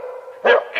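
In an audiobook scene, a dog gives a sharp, angry bark close by, following a brief whimpering whine, then a short growling yelp.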